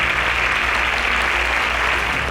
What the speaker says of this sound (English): A round of applause for all our Super SPAKs.